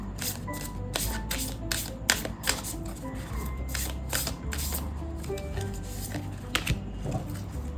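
Tarot cards riffled and shuffled by hand in a close, steady series of crisp flutters and soft taps, with a faint voice speaking now and then underneath.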